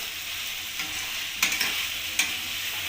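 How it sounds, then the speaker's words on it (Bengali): Fried cauliflower is stirred with spices in a kadai, a soft steady sizzle with two sharper scraping strokes of the spatula, close and without talk. "ফুলকপিটা দিয়েও মশলার সাথে ভালোভাবে একটু কষিয়ে নেব।"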